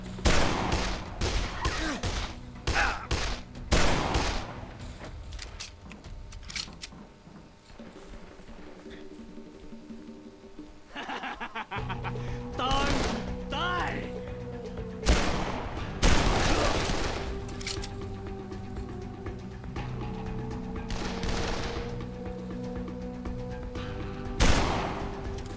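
Medium-speed pistol fire in Dead Island comes in bursts of sharp, loud cracks, some in quick clusters and others spaced apart, with a quieter stretch midway and game ambience underneath.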